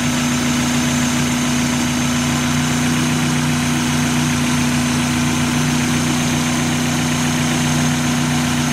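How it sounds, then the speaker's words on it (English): Mazda MX-5 engine idling steadily at close range, a constant low hum with a fixed tone that holds throughout and no voices. "as soon as I plug it in here, we're going to hear the RPMs change a little bit"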